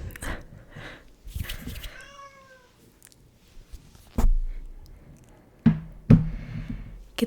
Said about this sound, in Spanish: Aquí está mi gatita.